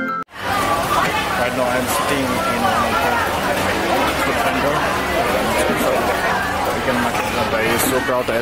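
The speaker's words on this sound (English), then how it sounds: "Crowd, as you can see, people are eating their food." Busy crowd chatter at Chatuchak market in Bangkok, where people are eating, forming a dense steady babble of many voices with clatter and movement close by, loud throughout after a brief cut at the start.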